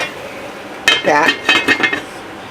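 A metal lid clatters onto a pot of chicken braising in stock with fennel, a sharp clang followed by a few quick rattling clinks as it settles, with a faint sizzle underneath.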